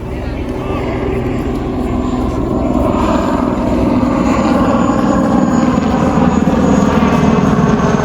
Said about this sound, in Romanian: Și avem și patrule de elicopter.